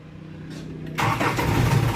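A medium bus engine cranks and fires up after a diesel fuel filter replacement, a short starter whine giving way to a loud, rumbling idle close by.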